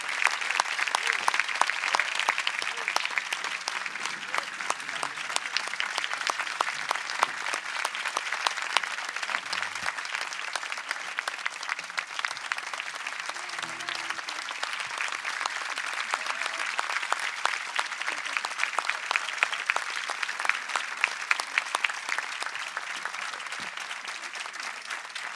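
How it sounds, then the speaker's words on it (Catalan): A crowd at an outdoor festival concert in Borriol applauds loudly and continuously for about twenty-five seconds, a dense even wash of clapping with only faint voices underneath. "m'agradaria que li brindaré un dels fortíssim aplaudiment d'aquesta nit"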